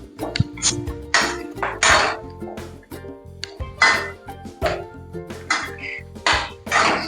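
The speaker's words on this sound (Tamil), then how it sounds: "தேவையான அளவு கேப்சிகம் போட்டுக்குவோம். நல்லா வதக்கிக்கலாம்." Capsicum stir-fried in a pan for fried rice, heard as loud, repeated metal spatula clanks and scrapes against the pan in an uneven rhythm, close by with no talking.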